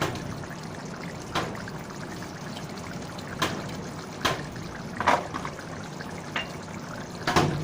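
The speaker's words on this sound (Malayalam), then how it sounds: "അതിലേക്ക് വളരെ കുറച്ച് വെളിച്ചെണ്ണ ഒഴിക്കുക." Coconut oil trickles steadily in a thin stream, with a few soft splashes and clinks scattered throughout.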